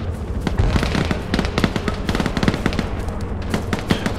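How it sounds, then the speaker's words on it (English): Rapid explosions and crackling blasts from a nearby rocket strike in the Arma military game, dense and loud with repeated sharp bursts of gunfire-like cracks throughout. "Rocket hit right above us"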